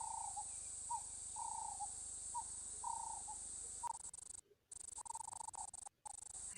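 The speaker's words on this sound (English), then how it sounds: "Lovely sound of the ring-necked dove." Ring-necked dove calling at a waterhole, a repeated rhythmic series of soft cooing notes against a constant insect drone, some distance away, with brief dropouts near the end.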